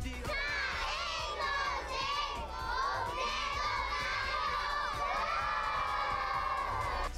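A dense crowd at a Cagayan de Oro festival shouts a cheer together, loud and sustained with excited children's voices and whoops layered throughout, with no pause.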